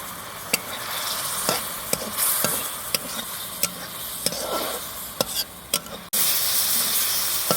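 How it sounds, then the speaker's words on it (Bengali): Raw green banana pieces are stir-fried in spice paste for a fish curry, with a steady close sizzle broken by regular sharp scrapes and knocks of a spatula against the pan. "এখন আবার এই কলাটাকে আমি মশলার মধ্যে কষিয়ে নেব।"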